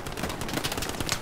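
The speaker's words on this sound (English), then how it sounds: "The fucking tank is shooting at us." Gunfire from a tank in the World War II shooter game Hell Let Loose, a dense, steady rattle of shots and impacts lasting the whole moment, moderately loud with no voices over it.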